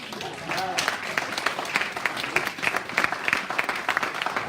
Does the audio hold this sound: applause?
yes